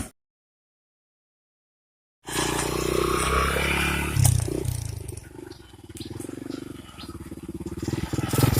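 A motorbike ride along a village road, the engine's steady rumble starting abruptly after a stretch of silence and running loud and close with some rattles and bumps throughout.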